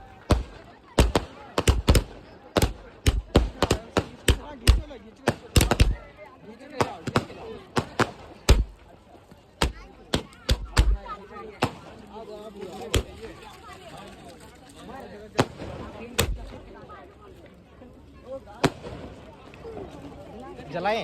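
Colourful firecrackers bang outdoors during a Holi (Phagua) celebration, a long irregular series of sharp loud cracks, clustered rapidly at first and then more spaced out, with people talking between the bursts.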